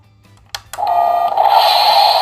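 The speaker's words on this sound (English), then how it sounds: "that's the sound of the actual turbo boost" A toy Transformers Knight Rider car's electronic whooshing turbo boost effect kicks in after a couple of sharp clicks, then holds as a loud, bright sustained tone with a rising hiss.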